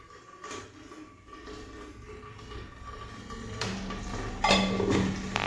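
Cooking and frying in a pressure cooker in a home kitchen, with pots and utensils clanking and clinking intermittently over a low background hum, a few sharper metallic knocks near the end.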